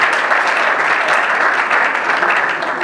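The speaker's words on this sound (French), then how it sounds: "Ah oui, on peut acclamer." Loud, steady applause from a conference audience, many hands clapping together in a continuous wash that tapers slightly near the end.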